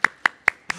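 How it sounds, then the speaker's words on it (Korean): Four sharp hand claps in quick, even succession, close and crisp, with no voices, from an audience at a Sunday church service. "우리 청소년부를 위해서 박수 한번 하겠습니다"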